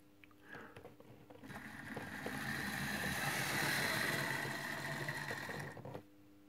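A Roco BR 144 model locomotive, an unpowered dummy, moving along a model railway track, giving a faint, steady mechanical whir that builds up, holds for a few seconds and then cuts off.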